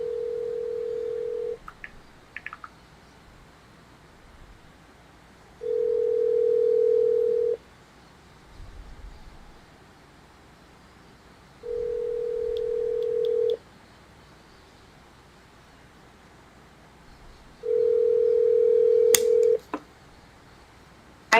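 A phone line gives a repeating ringback tone, four steady two-second beeps spaced several seconds apart with quiet line hiss between them and a short click at the end.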